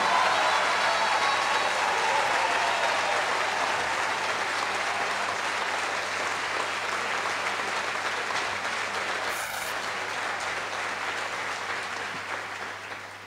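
A large audience gives a long, steady round of applause for former Ecuadorian president Rafael Correa at an event, the dense clapping holding evenly and only easing slightly toward the end.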